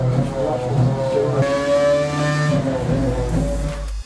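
Current Formula 1 race car engine under the newer regulations, a lower, rougher tone that rises and shifts pitch as it revs, loud and up close.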